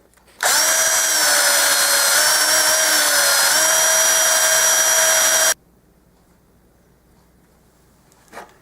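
A drill spins a Franklin half dollar coin ring against 320 grit sandpaper, giving a loud, steady whine for about five seconds that cuts off abruptly into near silence.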